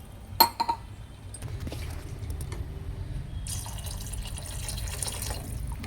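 Water poured into a pot of chicken leg curry, a soft trickle at first and then a steady, close pour of liquid after a few brief knocks.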